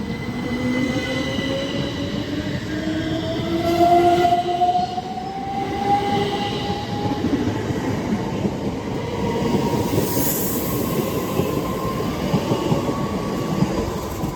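A c2c passenger train pulls out of Barking station bound for London Fenchurch Street, its engine tone rising steadily as wheels rumble and squeal along the rails in a loud, continuous passage, with no voices.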